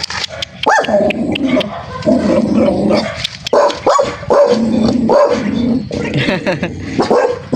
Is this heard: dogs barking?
yes